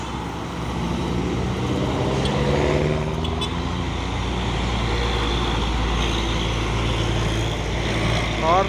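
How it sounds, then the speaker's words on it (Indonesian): A palm oil truck comes up from behind on a road while a bus engine drones steadily, the truck adding a deep rumble that builds gradually under the continuous road noise. "Ada lagi truk sawit dari belakang."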